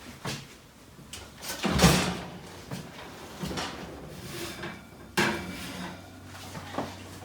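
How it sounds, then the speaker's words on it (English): Dishes and an oven door clatter in a home kitchen as a baked breakfast casserole is pulled from the oven, with several bangs and scrapes spread out and one sharp knock near the end. "I'm going to pull it out of the oven."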